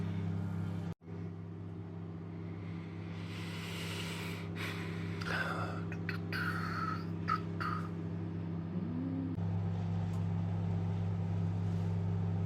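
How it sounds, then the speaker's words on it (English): A microwave oven heating a cheap donner kebab gives a steady low hum with a sharp click at the start, and faint clatter from the kitchen over the drone. "turn the microwave on."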